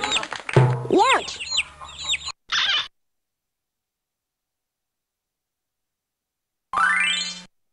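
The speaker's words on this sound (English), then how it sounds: "Hen." A cartoon hen clucks in the 1995 Fisher Price Barnyard Rhythm & Moos PC game, a short burst of bright, pitched game sound effects and voice-like clucks, then silence, then one rising chirp near the end.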